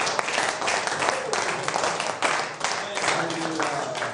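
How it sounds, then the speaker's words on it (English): A church congregation claps loudly and steadily, a dense roar of applause that fills the whole stretch with slight dips in the middle. "give Jesus the biggest clap"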